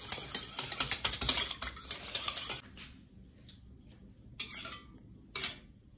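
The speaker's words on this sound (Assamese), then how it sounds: "এতিয়া আৰু ডিমটো এতিয়া আমি ফিটি ল'ম এনেকৈ" Eggs being beaten in a bowl for KFC-style chicken popcorn, a dense run of quick clinking whisk strokes against the bowl for about two and a half seconds, then a pause and two short bursts of beating.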